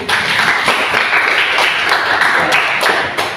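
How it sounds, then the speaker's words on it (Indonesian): Students in a classroom clap for a classmate, a brisk burst of many hands applauding together, fairly loud and close, with a few sharper individual claps standing out. "Berikan tepuk tangan untuk Sri."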